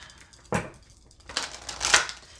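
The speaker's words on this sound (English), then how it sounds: "Just a few more decks to shuffle here." Tarot card decks are shuffled in quick riffling bursts, with a soft rustle first, then louder crisp flurries of cards near the microphone.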